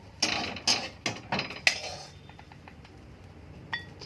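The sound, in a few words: removing fried dried fish (shutki) from a pan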